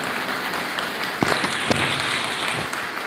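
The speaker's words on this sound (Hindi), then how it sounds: "तालियां अच्छी तरह बजाओ दादी के लिए" An audience at a yoga gathering in Assandh claps for an elderly grandmother. The clapping is a dense, continuous wash of fairly even loudness, with a few sharper individual claps standing out.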